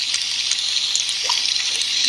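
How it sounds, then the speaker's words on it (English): A fizzy drink being poured in an iPhone app simulation: a steady, bright hiss of trickling liquid and fizz that stays even throughout, with no voices. "you can pretend to pour it, then just pour it a bit, and if you shake it, the little fizz comes"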